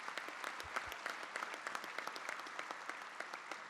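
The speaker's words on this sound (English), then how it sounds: "Let's give him a round of applause." Quiet, steady applause from a crowd at a county executive's inauguration, many hands clapping in a dense patter that holds evenly throughout without voices standing out.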